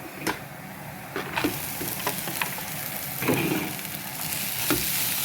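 Onions sautéing in a hot pan, a continuous sizzle broken by several sharp scraping stirs of a utensil, close and fairly loud with no one talking.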